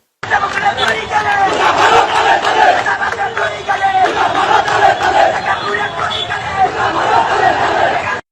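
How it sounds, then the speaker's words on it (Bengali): Supporters protesting on a blocked road chant slogans in a loud, continuous crowd roar, voices rising and falling together in rhythmic shouts for the whole stretch. "ওনার সমর্থকেরা রাস্তা অবরোধ করে বিক্ষোভ করতেছে দেখেন দেখেছেন স্লোগান দিচ্ছে"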